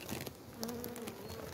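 Steady insect buzzing of honey bees droning close by at an apiary, with a faint higher whine drifting through.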